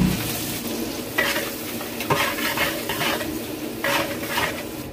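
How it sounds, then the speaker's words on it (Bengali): Onions frying in hot oil and butter in a pot for Barrackpore-style biryani, a continuous close sizzle broken by several bursts of stirring with a metal utensil scraping the pan. "পেঁয়াজটা মোটামুটি 7-8 মিনিট, যতক্ষণ না ব্রাউনিশ যে গোল্ডেন কালারটা আসছে ততক্ষণ আমাকে ভাজতেই হবে।"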